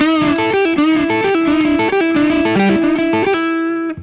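A fast electric guitar rock lick runs through quick five-note pentuplet groupings in a rapid repeating pattern, bright and loud, ending on a held note.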